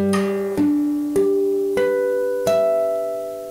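Fingerstyle acoustic guitar picks out the second ending of a song, five distinct plucked notes with bass roots, each ringing and sustaining, close and clean with no talking.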